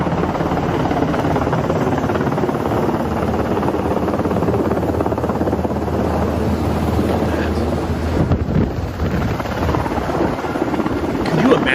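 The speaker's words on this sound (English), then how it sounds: "It's a Black Hawk helicopter." A Black Hawk helicopter flies with a loud, continuous, steady roar of rotor and engine that holds unbroken throughout, mixed with wind noise.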